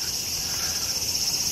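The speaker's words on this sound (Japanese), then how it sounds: "でっかいセミが飛んでった今。" Large cicada outdoors on a hot summer afternoon as a typhoon approaches: a steady, moderately loud insect buzz that holds evenly throughout, with no voices.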